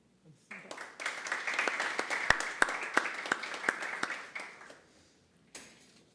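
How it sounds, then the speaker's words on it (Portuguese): An audience applauds steadily for several seconds, a dense patter of many hands that swells, then fades out. "Uma salva de palmas"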